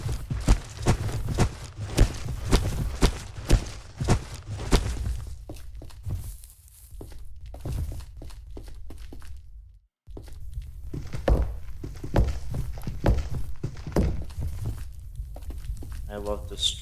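Blocks being broken in Minecraft, a rapid series of dull thunks and crunches repeating steadily, pausing briefly midway, with a person talking over much of it.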